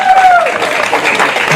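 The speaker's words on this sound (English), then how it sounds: "Can we stand and clap for him?" An audience applauds in a standing ovation at an African library summit, with steady dense clapping and crowd noise, a whistle-like tone sliding down early on, and voices mixed in.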